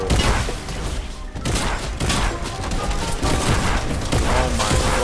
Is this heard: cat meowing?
no